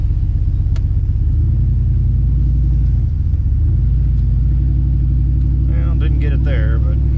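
A car's engine rumbles steadily and loudly as it pulls away from a gas station, a deep constant drone throughout, with a voice briefly audible near the end.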